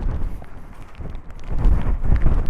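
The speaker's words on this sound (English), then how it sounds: "Oh, that is a bitter Antarctic wind coming well from Antarctica." Cold wind gusting at Bushrangers Bay in Victoria, buffeting close against the microphone as a low, rough rumble that swells louder in the second half.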